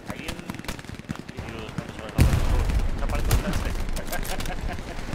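Gunfire in the World War II shooter Hell Let Loose at St. Marie du Mont, with bursts and shots cracking through a busy battlefield mix that turns suddenly louder and denser midway, while players talk over it.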